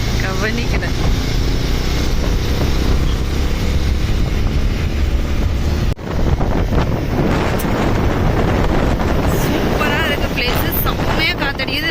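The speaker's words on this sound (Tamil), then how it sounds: "பேசுறது உங்களுக்கு கிளியரா கேக்குதான்னு கூட அந்த அளவுக்கு காத்து, செம்மையா காத்து" Loud, constant wind buffets the microphone on a hill station in the mountains at Valparai, a roaring low rumble that runs through the whole stretch with no real letup.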